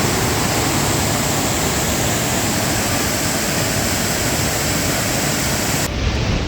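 Steady, loud rushing of water flowing close by near a tunnel on the Hetch Hetchy trail, a continuous broadband roar with no break until a slight change at the very end.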